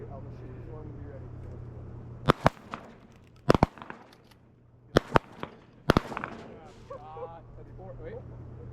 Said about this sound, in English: Wait, I'm gonna shoot this one.